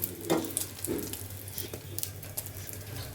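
Quiet sizzling of pointed gourd frying in a pan, with occasional soft scraping and stirring clicks over a low steady hum.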